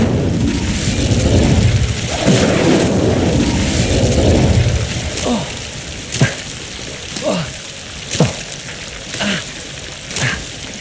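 Incendio fire spell cast in Hogwarts Legacy, with a roaring, crackling burst of flame at first, then a string of sharp magical impacts and whooshes at intervals, no talk.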